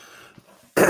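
A single sharp cough bursts out at the end, loud and close, after a stretch of near silence.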